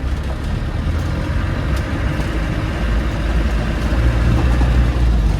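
Land Rover Defender 90 with a 300Tdi diesel pulling away in first gear: a loud, steady low engine drone with a gradually rising note, cabin noise unmuffled, no talking.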